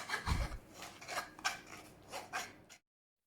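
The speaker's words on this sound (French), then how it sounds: "ندوزها في الشينوا فهاد الصفايه هادي باش تكون رطبه" Thick pastry cream pushed and scraped through a fine metal chinois sieve, several rasping strokes in a steady rhythm, close and fairly quiet.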